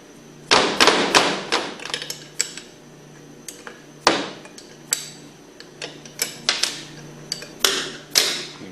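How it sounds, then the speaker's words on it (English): A 1/2-inch wrench works four bolts off a Hypro centrifugal pump flange, giving sharp metallic clicks, ratchet ticks and occasional thuds in irregular clusters, fairly close and moderately loud. "take your 1/2-inch wrench and remove these 4 bolts"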